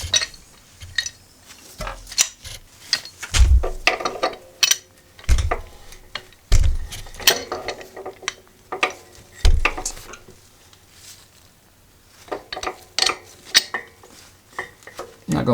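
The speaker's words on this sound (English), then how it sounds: "I'm going to throw a rag over it and then tighten it with a pipe wrench" A pipe wrench tightens a part through a rag on a Fuji F500K engine bottom end for a 1970s Indian ME100 motorcycle, producing irregular close metallic clanks, clicks and knocks spaced between quieter pauses.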